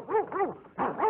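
Dogs let out several quick, rising-and-falling barks and yelps, close and moderately loud, in two short bursts with a brief gap between.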